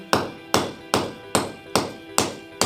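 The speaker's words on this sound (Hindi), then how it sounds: "हथौड़ा पट्टी के ऊपर न लगे, अगर लग जाए तो कोई बात नहीं," A hammer drives nails into a wire molding strip with six sharp, evenly spaced knocks about half a second apart, loud and close, each ringing briefly before the next.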